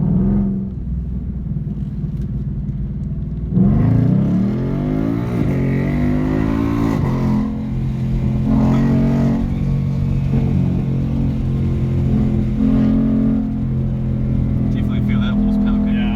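A Ford Mustang GT engine accelerates hard, a loud steady rumble climbing in pitch through the gears under continuous cabin noise, with people talking over it.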